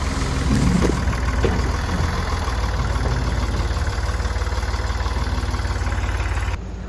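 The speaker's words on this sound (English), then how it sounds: "So this tractor we're looking at takes a bale of hay out to the cows almost every day" A farm tractor engine idles steadily with a low, chugging knock, loud and close, running continuously before cutting back slightly at the end.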